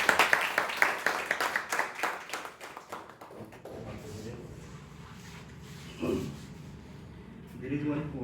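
Audience at a Toastmasters club meeting clapping, a dense round of close hand claps that fades out after about three seconds, followed by quieter room noise and a few soft knocks.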